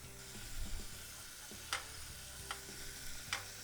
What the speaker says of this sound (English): Add some minced onion, some minced garlic. Saute this up for a little bit.